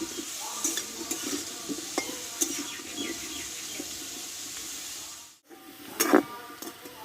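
Potato pieces frying in hot oil in a home kitchen, a steady close sizzle stirred with a utensil, metal scrapes and clinks rising near the end after a brief dropout.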